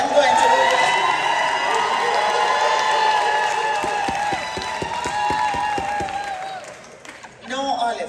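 Crowd applause and cheering for a name called out at a Jamaica 60th Independence event, a sustained roar of voices with sharp clapping building midway, then fading before a brief burst at the end, with voices over it.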